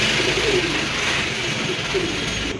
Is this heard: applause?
no